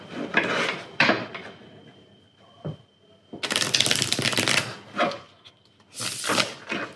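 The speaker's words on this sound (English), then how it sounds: "Let me first reshuffle." A tarot card deck being reshuffled in bursts of crisp riffling and flapping, with quieter gaps of handling between the shuffles, close up and with no talking.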